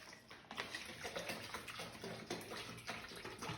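Water trickles and splashes faintly as it is poured into a homemade volcano paste mix for a kids' science project, an uneven, soft pouring with small bursts and no talk over it.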